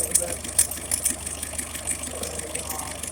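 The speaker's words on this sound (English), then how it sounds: "Idling pretty good other than that exhaust intake thing here spitting a little bit." Fergie Wasp engine idling steadily with a little spitting from the exhaust, a continuous low running drone with faint irregular pops and sputters, fairly close and not very loud.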